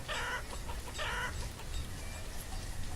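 Two short bursts of chicken clucking from a farm in the video game Banished, fairly close over a low ambient background.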